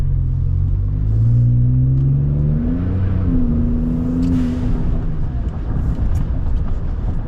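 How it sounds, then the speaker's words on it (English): A Ford F-150 with an aftermarket performance exhaust, intake and tune, heard from inside the cab with the windows up: a deep, loud, grunty drone that rises as the truck accelerates, then settles into a steady rumble. "the exhaust definitely gives it a little bit more of like a deep kind of tone"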